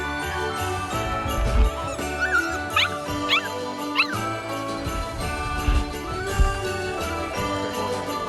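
A puppy fetched from its kennel for a bush plane flight in Alaska, yipping and whimpering in short high squeaks while soft jingling and handling noises carry under quiet talk.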